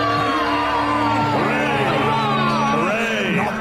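Crowd cheering and whooping in a sci-fi radio drama, a loud close burst of excited voices yelling over a low sustained hum.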